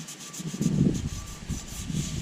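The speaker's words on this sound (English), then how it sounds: "most of the rust you can see comes right off easily with a brush or a piece of Scotch-Brite" A brush scrubs rust off a cast iron skillet, giving a near, rough rubbing rasp in a few uneven strokes, loudest in the middle and continuing alone without talk.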